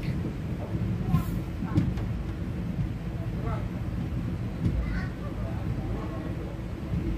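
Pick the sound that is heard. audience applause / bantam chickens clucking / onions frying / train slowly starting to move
train slowly starting to move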